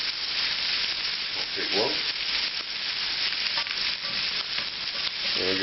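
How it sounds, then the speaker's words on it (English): Butter melts and sizzles steadily in a hot pan with onion and garlic, a dense continuous frying hiss up close, with a few brief stirring sounds and a short spoken remark over it. "We're going to melt the butter in the pan."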